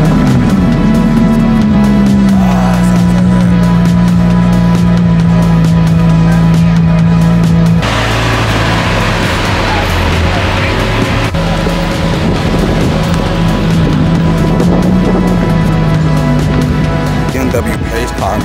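An exotic BMW pace car painted red starts up on Broadway, its engine roaring loudly into a steady, droning idle with tones that slide down and settle, heavy outdoor noise layered over it.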